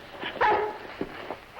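Dog barking, a few sharp barks spaced through a short stretch, close and moderately loud, with a louder bark near the middle and another at the end.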